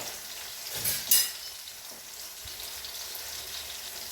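Beef roast with green chillies and salt being stirred in a hot pan, a steady sizzle and fry with a couple of sharper scraping clinks of the spoon early on, close and alone.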